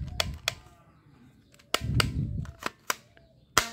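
Toy cap pistol firing caps, giving sharp cracking pops that are loud and close, spaced irregularly with a few quick pairs and stretches of low rumble in between.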